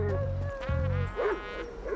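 Chop the dog barks and yips several times in Grand Theft Auto V, short sharp calls with a whimpering edge, close and fairly loud over game background sound.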